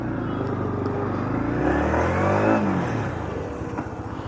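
A motorcycle pulls away on an early-morning ride from Ooty toward Kinnakorai, its engine rising in pitch as it accelerates, close and steady, then settling into a cruising drone.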